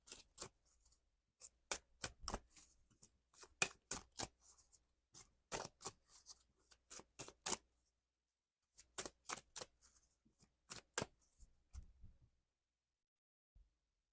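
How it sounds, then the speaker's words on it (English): A deck of tarot cards being shuffled by hand in quick bursts of crisp, rapid clicking, several separate rounds with short pauses between them, close and fairly quiet. "One last shuffle."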